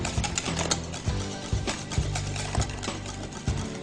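An electric mixer whirs steadily as biscotti ingredients with sweetener are beaten until frothy, a close mechanical drone with regular rhythmic pulses about every half second.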